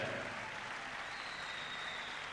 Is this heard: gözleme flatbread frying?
no